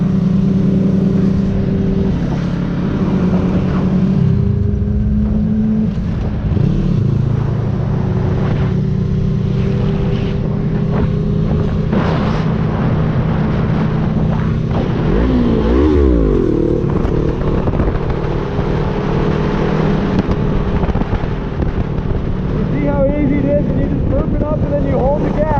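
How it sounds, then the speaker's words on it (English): A motorcycle engine drones loudly and continuously as the rider works toward a stand-up wheelie, with the pitch climbing and dropping around gear changes through third and fourth gear. Wind noise runs throughout. "We'll do a third gear. We'll do a fourth gear at 50."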